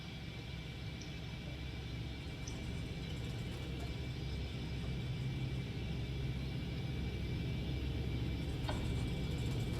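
Concorde engines in the X-Plane 11 flight simulator run as power is increased, giving a steady dense rumble and roar with a faint whine, slowly growing louder and continuous throughout.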